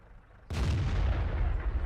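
A T29 heavy tank fires its 105mm gun in World of Tanks: one sudden loud, deep boom that stays as a heavy rumbling roar, with no voices.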